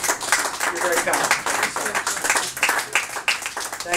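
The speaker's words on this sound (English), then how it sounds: "Thank you for that gratuitous applause." A live comedy-show audience applauds after a comedy song, a dense, steady wash of clapping that fills the space, with voices mixed in underneath.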